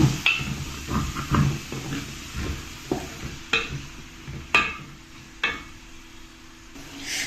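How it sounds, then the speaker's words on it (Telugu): Chopped onions sizzle in a hot pan, broken by several sharp stirring scrapes and utensil knocks, close and moderately loud, with no talking. "ఉల్లిపాయ ముక్కలన్నీ కొంచెం బాగా గోల్డెన్ కలర్తో వచ్చేంత వరకు బాగా ఫ్రై చేసుకోవాలి"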